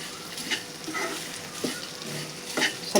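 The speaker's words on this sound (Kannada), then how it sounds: "ಉಳ್ಳಾಗಡ್ಡಿ ಹುರಿಯಾಕತ್ತೀನಿ ನೋಡ್ರಿ." Onions fry in hot oil for a North Karnataka spiced masala, with a soft steady sizzle broken by several scraping stirs of a spoon against the pan at irregular intervals.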